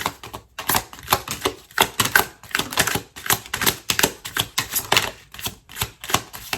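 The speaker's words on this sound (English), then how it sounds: "All right, one more shuffle." Rapid, rhythmic flapping and riffling of tarot cards being shuffled, a dense run of crisp slaps close by with brief pauses between bursts.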